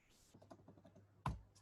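Keys clatter on a computer keyboard during a Linux command-line session, a quick run of light clicks ending in one louder, heavier keystroke, close and alone with no voice.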